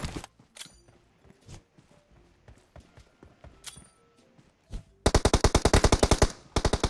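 Rapid automatic gunfire bursts in PUBG Mobile, with scattered game footsteps and effects before a loud sustained volley erupts near the end.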